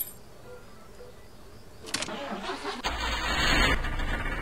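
A car engine starts up in the Jalopy video game, a sharp cranking burst followed by a louder, rougher idle rumble with a high whine, close by and without talk.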